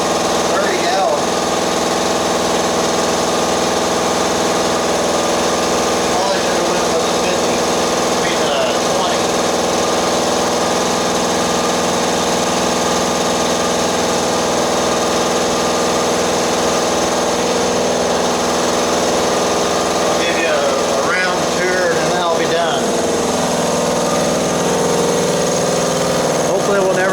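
A motor-driven air compressor with a 30-gallon tank runs steadily in a shop, a constant mechanical hum and whine throughout, with people talking over it in places.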